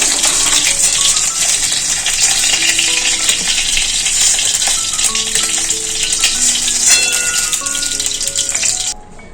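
Fish roe fritters frying in a reduced amount of oil produce a loud, steady hissing sizzle throughout, with faint clinks and tones behind it, before it drops off abruptly at the end.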